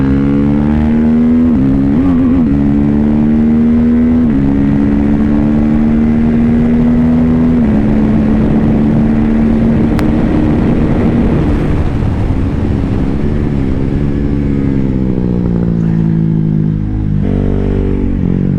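A 2022 KTM RC 390 motorcycle ridden on a track gives a loud, close, sustained engine drone whose pitch rises and dips as the rider shifts and changes speed.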